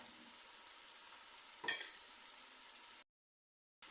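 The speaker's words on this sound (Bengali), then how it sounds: "এক মিনিটের মতো বা দেড় মিনিট আমি ভেজে নিয়েছি টমেটোগুলো গলে গেছে" Homegrown tomatoes and a tablespoon of roasted chili powder fry in a pan, a steady soft sizzle with one brief stir-like burst midway, then a short total cutout before the sizzle returns.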